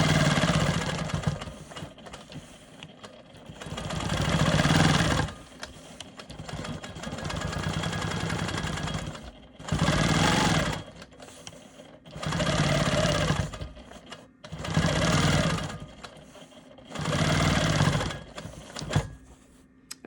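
A sewing machine quilts boomerang lines on an eccentric star block, running in several loud close bursts of rapid stitching separated by short pauses.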